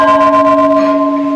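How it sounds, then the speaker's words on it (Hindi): A hanging temple bell at a Rudraprayag hillside shrine struck once, ringing loud and close with a long sustained metallic tone that slowly decays. "आगे बार घंटा बजा देते हैं जाते हुए।"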